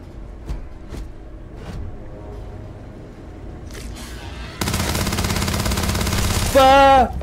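Automatic fire from a Grendel rifle in the Starfield video game, a dense sustained burst of rapid shots that starts abruptly and runs to the end, with a tonal electronic game sound rising near the close.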